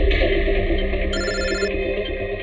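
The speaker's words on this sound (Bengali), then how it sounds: "যে কোনো সময় ওদের ফোন আসতে পারে।" A telephone rings with a steady electronic trill, loud and close, its tone shifting partway through over a humming background.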